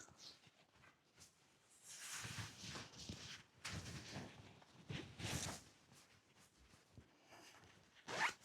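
A zipper on a fabric travel document bag is pulled open and closed in several short rasping bursts, close and fairly quiet, with handling rustles between pulls and no talking.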